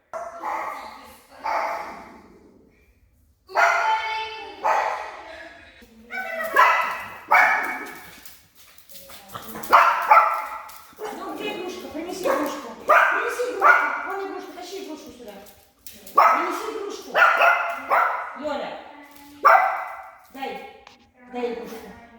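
A Mexican hairless dog barks repeatedly in short bursts at a house, the barks close and fairly loud, mixed with yips and whimpers while people talk throughout.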